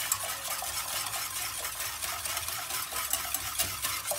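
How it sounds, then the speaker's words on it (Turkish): A whisk beats sugar into milk in a bowl while making a Turkish milk dessert, a steady rapid scraping and clinking rhythm, close and moderately loud with no talking. "Ve öncelikle şekerle sütü bir çırpalım."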